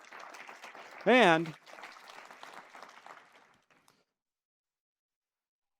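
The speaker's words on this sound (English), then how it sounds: "So how about a round of applause for all those folks?" An audience at a university State of the University address gives a round of applause. A short spoken word comes first, then a moderate wash of clapping that fades out after a few seconds into silence.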